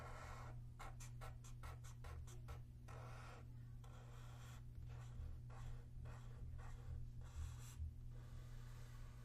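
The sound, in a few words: sketching an RL circuit diagram on the board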